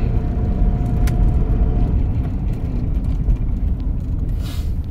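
A Mitsubishi Pajero with a fault when pulling away accelerates from a standstill, giving a loud, steady, close engine rumble that carries on throughout with no one speaking.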